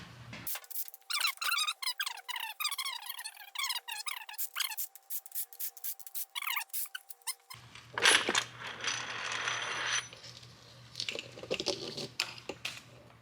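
A hand ratchet clicks rapidly in quick repeated strokes while removing an aluminum rocker box from a 6.0 Ford Power Stroke engine, followed by scraping and rubbing of metal parts, close and fairly loud.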